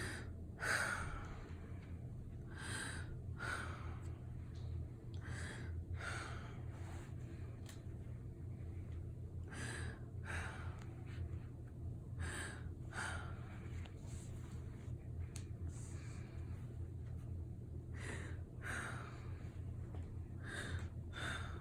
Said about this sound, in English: I want you to take deep breaths in and out